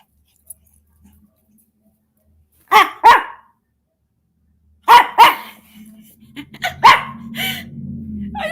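A dog barks in short, sharp bursts: a pair of loud, close barks, another pair after a pause, then a quicker run of barks and yips over a low growling rumble, in an otherwise quiet room.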